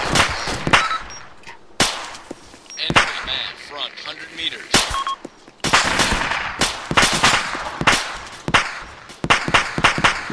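Gunfire in a tactical shooter game: sharp, loud shots crack out in irregular bursts, some single and some in rapid clusters, with brief gaps between, and no voices over them.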